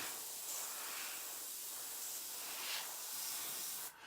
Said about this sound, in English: So we get a little bit of paint stuck on this tip and it doesn't spray quite as well